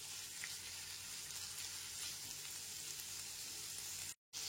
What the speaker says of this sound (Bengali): লবণটাকেও সবজিগুলোর সাথে ভালো করে মিশিয়ে নিচ্ছি।